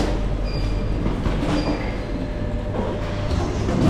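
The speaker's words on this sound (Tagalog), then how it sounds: "Istasyon ng tren." Train at a railway station platform in Spain, a loud continuous rumble of rolling wagons with faint squeals and clicks of wheels on rails, close by and steady throughout.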